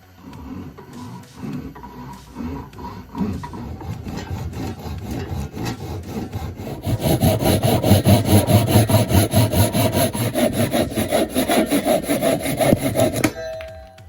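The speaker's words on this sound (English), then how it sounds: "So hit it with the saw." Hand saw cutting through a piece of wood in a workshop, rhythmic back-and-forth strokes close by, growing louder and faster midway until the cut finishes.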